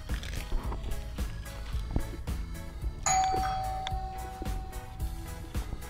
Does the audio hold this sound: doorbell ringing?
yes